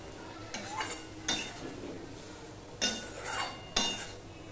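Knife cutting boiled spiny gourd in a pan: a few scattered scrapes and metallic clinks over a faint low background, close and fairly quiet, with no talking.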